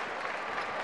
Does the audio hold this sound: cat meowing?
no